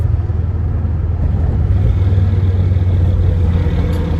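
A Ford Focus ST 225 driving on the road, its engine a steady loud drone with low rumble and slight swells as it pulls along, road noise underneath, no voices.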